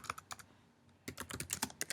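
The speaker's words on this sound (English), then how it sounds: "So you can just start typing in the box." Keys clacking on a computer keyboard in two quick bursts of typing separated by a brief pause, close and crisp, with no talking.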